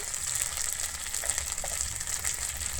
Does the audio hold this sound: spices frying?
yes